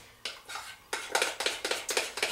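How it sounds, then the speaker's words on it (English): A metal spoon stirring melted chocolate chips for scotcheroos in a bowl, giving a quick run of bright clinks and scrapes in a steady rhythm, close and fairly loud. "So the chocolate took about 2 full minutes to get to a consistency where I can stir it like this"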